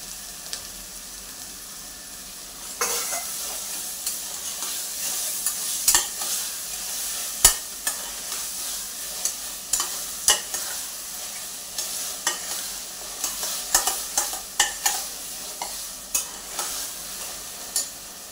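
Onions and spices sautéing together in a pan for a methi corn pulao, a steady frying sizzle underneath repeated spatula scrapes and taps at a loose, regular rhythm, close and moderately loud.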